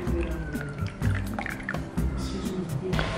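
Melted butter for bibingka poured into a separate bowl, heard as a soft liquid pour and drip with clinks of kitchenware, fairly close, with no talk over it.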